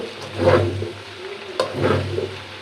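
Chicken egg chow mein being stirred and fried with salt in a street-style pan, with two surges of sizzling and scraping over a low steady burner hum, close and moderately loud.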